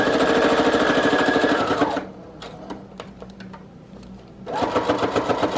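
Sewing machine stitching a junk journal page, a steady loud mechanical whir that stops briefly midway, leaving quiet handling noises, then starts up again.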